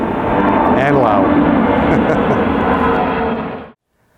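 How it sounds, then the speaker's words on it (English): A big, wide military cargo plane passes overhead, a loud broadband engine roar that holds steady for several seconds before cutting off, with talk mixed in underneath. "It looks like a big cargo army airplane."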